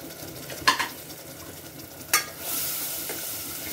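Ground spice paste for shevla, a wild vegetable, goes into a pan with two sharp spoon clinks, then settles into a steady, rising sizzle as it sautés. No one speaks.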